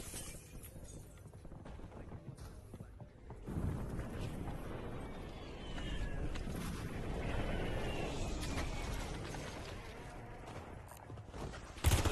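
An airstrike in the video game Call of Duty Warzone: a broad, rumbling roar of blasts swells in a few seconds in, keeps up steadily and ends with a sharper hit.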